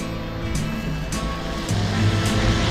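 A small river near Amboli in Maharashtra rushes past in a steady, broad wash of flowing water, fairly loud and close, with no one speaking.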